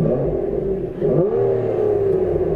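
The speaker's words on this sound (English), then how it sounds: "And then we are greeted by the wonderful 6-litre V12, which sounds absolutely incredible, even from inside the car." Heard from inside the cabin, the stock 6-litre V12 of a 2017 Aston Martin Vanquish S hums at a low, steady note, then revs up briefly in a smooth rising sweep before settling back into a constant drone.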